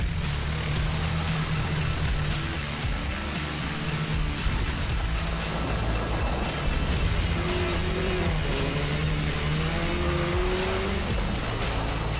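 Supercar race cars lapping at Mid-Ohio during a championship-deciding round, a dense continuous roar of engines with rising and falling revs, tire squeal and passing cars, loud and sustained without speech.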